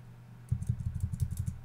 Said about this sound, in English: I need to type in the password